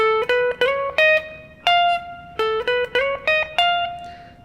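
Clean guitar plucks out a quick series of single notes with uneven spacing, each ringing briefly, a run that sounds off and stumbling.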